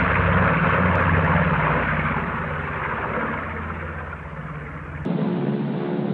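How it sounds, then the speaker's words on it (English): Several Douglas Boston bombers fly in formation, their piston engines giving a steady, loud, broad drone that holds for about five seconds before cutting abruptly to a thinner, quieter hum. "The 3 aircraft completed their mission unmolested and turned back towards home."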